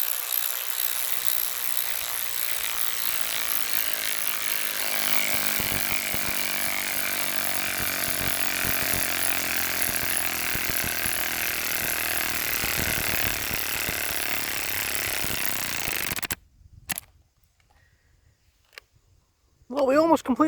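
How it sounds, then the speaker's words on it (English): Cordless 12V KIMO ratchet whirs steadily for about sixteen seconds while driving lag screws into a tree stump, a loud continuous motor buzz with ratcheting texture, then stopping abruptly before a brief quiet stretch. "we're going to try and drive some lag screws into this tree stump"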